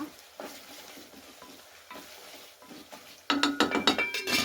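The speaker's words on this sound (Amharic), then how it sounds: "እየበሰለልን ነው ሽንኩርት ማለት ነው።" Onions frying in a pan, a soft steady sizzle with faint stirring clinks that gives way to louder, sharper scraping and spattering near the end, with no talking.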